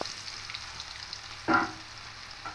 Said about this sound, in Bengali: দিয়ে তেলের সঙ্গে একটু ভেজে নেবো